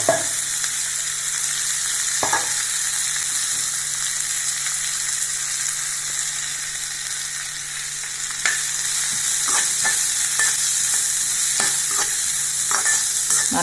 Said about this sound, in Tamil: நல்லா வதக்கிக்கலாம் வெங்காயத்தை